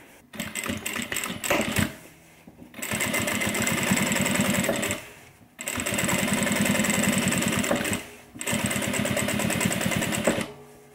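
A sewing machine top stitches a messenger bag in three long, fast, steady bursts separated by brief pauses, rattling close by.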